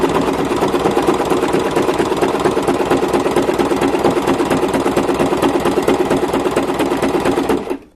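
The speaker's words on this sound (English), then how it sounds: "that's how easy it is to use your Singer Promise sewing machine and sew a satin stitch" A Singer Promise sewing machine runs steadily while sewing a satin stitch, giving off a loud, fast mechanical whirring and clatter for about eight seconds before it stops abruptly.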